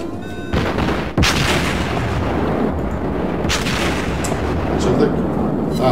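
Naval guns fire in the World of Warships video game, a continuous loud roar of booming artillery with several sharp blasts standing out near the start and middle.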